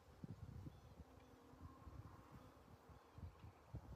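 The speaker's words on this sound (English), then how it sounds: "I hope y'all can hear the buzzing" Honey bees from a package being shaken into a hive, a faint continuous buzz of many bees with occasional rustles and bumps close by.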